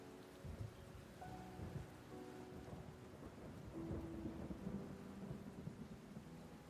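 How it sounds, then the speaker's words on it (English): Steady rain and rolling thunder ambience playing behind an art livestream, a constant wash of rainfall with low rumbles swelling and fading throughout, with no voices. "And then the rain ambiance maybe a little bit lower than the music."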